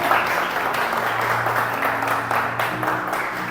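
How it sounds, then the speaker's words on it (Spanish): A church congregation applauds during a service, sustained clapping from many people at a fairly loud, even level with faint voices mixed in and some low sustained tones beneath. "y en el nombre de Jesús la iglesia le da un fuerte aplauso a Dios por sus vidas"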